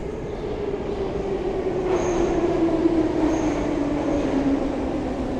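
A Minsk metro train at a blue line station, with a loud steady rumble of wheels and carriages and a sustained squealing tone throughout.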